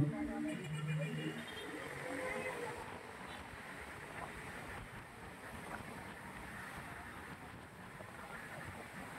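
Strong wind roars steadily across the microphone at Manila Bay's dolomite beach ahead of a typhoon, a constant broadband rush with gusty swells and no pauses throughout.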